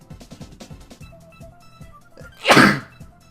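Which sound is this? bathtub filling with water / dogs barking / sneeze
sneeze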